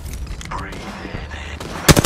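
Video game gunfire in a ranked squad battle-royale match: dense mixed game effects lead into a quick, loud burst of shots near the end.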